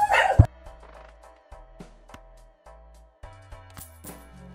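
Dog barks and yips in a card game, a loud cartoonish bark at the start followed by quieter short blips and chimes of game music.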